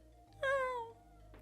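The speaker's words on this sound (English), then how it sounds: "It kind of sounds like a cat." A single clear, drawn-out cat-like meow with a falling pitch from the video game Donkey Kong Country 2 sounds over a quiet low background hum.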